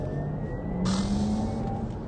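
A Porsche Taycan Cross Turismo 4S electric car accelerates with a rising electric whine over low road rumble, the tone climbing steadily as speed builds.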